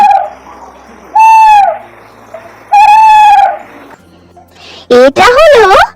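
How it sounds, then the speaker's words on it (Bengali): An owl hoots loudly twice in a drawn-out, wavering call, then a sharper burst of rising and falling calls follows. A voice talks quietly underneath in the gaps. "এটা হলো পেঁচা। পেঁচাকে ইংরেজিতে বলে আউল।"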